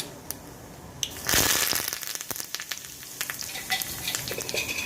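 Curry leaves hit hot oil with urad dal on a low flame while tempering a peanut chutney. A sudden loud sizzling burst settles into steady close crackling and popping.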